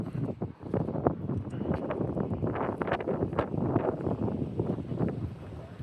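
Wind buffets the microphone at Dinorwic Quarry in Snowdonia, Wales, producing a continuous rumbling roar with irregular gusty bursts, close and fairly loud throughout.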